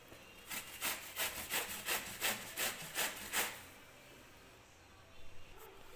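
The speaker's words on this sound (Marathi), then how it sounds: "या किसणीमध्ये मी जी कैरी आहे ती किसून घेणार आहे." Raw green mango is grated on a hand grater in a steady run of about ten rasping strokes, then the scraping stops and only quiet room sound remains.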